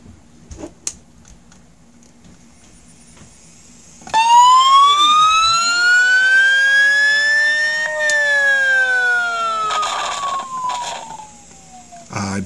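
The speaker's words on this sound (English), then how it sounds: "this one is a 7200 RPM drive, which is why it takes a while to spin up and you get more of a higher frequency once it is spun up" A 7200 RPM hard drive spinning up, picked up through an electromagnetic pickup coil. Low electrical hum gives way to a loud whine rich in harmonics that climbs steadily in pitch, levels off, then slowly sags, with crackly bursts near the end.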